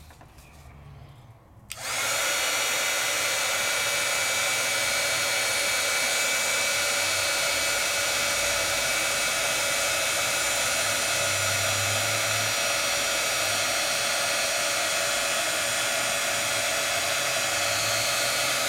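A heat tool blows steadily and loudly for most of the clip, melting layers of embossing powder. It starts after a short quiet pause and keeps a continuous whooshing hum with no speech.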